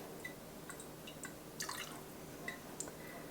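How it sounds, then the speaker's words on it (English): Turkey bone broth being strained drips steadily in light, scattered drops and trickles, quiet and close, with no voices. "So I'm just going to strain all of this broth."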